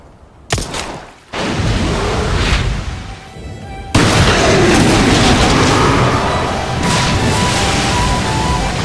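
A burst of loud, booming gunshots and impacts in Resident Evil 4 Remake, fired at a lake, with a sharp blast partway through followed by dense, sustained noisy rumble.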